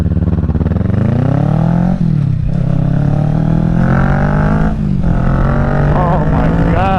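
A 2023 Kawasaki Ninja 650 motorcycle with a Yoshimura Alpha aftermarket exhaust accelerates hard, its engine note climbing and dropping between gear shifts, close and continuous.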